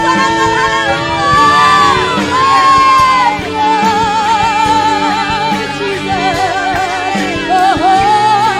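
A church congregation at an Ascension Day service shouting hallelujah together, a loud crowd of voices cheering and whooping with sustained sung and shouted tones, energetic and close, filling the whole stretch.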